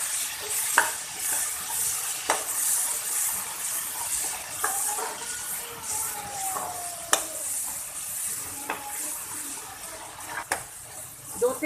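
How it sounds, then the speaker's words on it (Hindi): Ginger garlic paste frying in hot oil in a pan, giving a constant close sizzle and hiss with occasional stirring scrapes and small pops, steady throughout with no voices. "दो से 3 मिनट के लिए इसको अदरक और लहसुन को कुक करेंगे ताकि इसकी कुकिंग टाइमिंग कंप्लीट हो जाए।"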